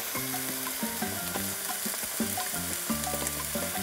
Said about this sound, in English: I'm just going to saute everything until it's well combined